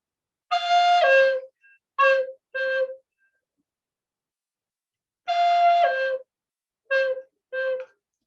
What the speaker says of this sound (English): pattern that all the mourning doves do here.